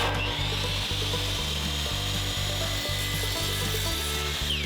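A miter saw cuts through wooden dowels, a loud steady motor whine with the blade grinding through wood, continuous and close with no talking.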